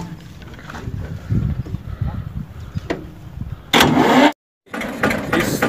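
An Eicher 242 24 HP tractor engine runs with a steady mid-pitched chugging, close by, then surges louder before a brief cutout and resumes, with someone talking over it.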